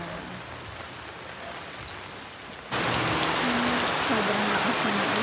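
Heavy rain falls outdoors, a lighter patter at first that abruptly swells into a dense, loud, steady roar of rain hitting surfaces, with faint background sounds and no talking.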